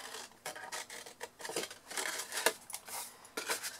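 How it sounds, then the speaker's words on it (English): Scissors snip up the sides of a paper box, a run of short, crisp cuts and rustles at a quiet, close level, with small pauses between strokes. "we're going to cut again exactly the same, a nice clean cut up the sides there"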